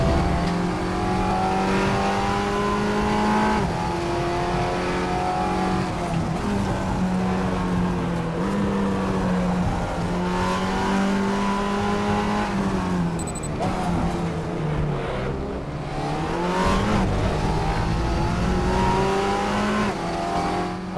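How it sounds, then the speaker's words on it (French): An Audi TT engine in the Raceroom racing game revs continuously, pitch rising and falling through gear changes as the car laps the circuit, loud and close with steady engine drone throughout. "tente de pas en demander de trop au moteur de cette Audi TT"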